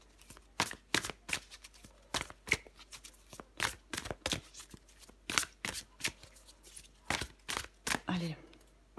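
Tarot deck being shuffled by hand, a rapid series of crisp riffling bursts and flutters repeating across several seconds, close and fairly quiet, with a voice murmuring briefly near the end.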